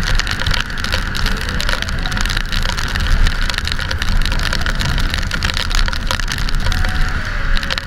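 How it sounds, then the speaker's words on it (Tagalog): Steady rain falls on a wet road in Baguio City during an afternoon ride on a Mio i 125 scooter, a constant loud hiss mixed with a low engine rumble and passing traffic, with no speech. "Maulan pa rin."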